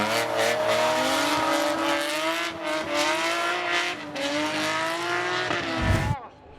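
A white E30 BMW drift car at a French drift championship round at Croix en Ternois screams with revving engine and long tire squeal, loud and continuous, then cuts off abruptly near the end.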